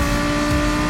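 A race car engine in Gran Turismo Sport roars loud and steady at high revs, a dense continuous drone with no voices over it.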